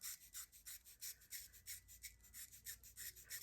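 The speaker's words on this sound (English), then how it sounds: "you're going to take that blade at a 45-degree angle and you're just going to scrape up." A dermaplaning blade scraping across skin at a 45-degree angle in quick, even upward strokes, a steady rhythmic rasping about four strokes per second, very close but faint, with no talking.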